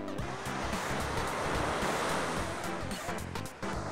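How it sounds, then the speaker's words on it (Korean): Sea waves on the East Sea shore surge and crash in a loud, continuous roar of surf mixed with wind buffeting the microphone, no voices present. "파도가 갑자기 살았어."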